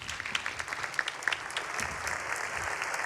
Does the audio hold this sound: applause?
yes